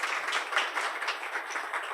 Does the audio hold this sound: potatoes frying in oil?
no